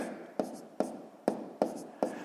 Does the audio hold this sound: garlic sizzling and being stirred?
no